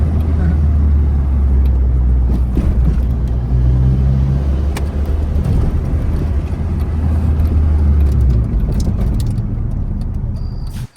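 A manual-transmission Mini Cooper driving, with a loud, continuous engine and road rumble close to the microphone that holds steady before cutting off at the end.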